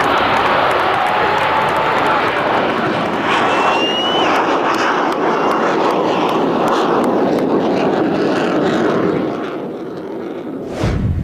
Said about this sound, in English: Ladies and gentlemen, the last flight of the F-14 Tomcat.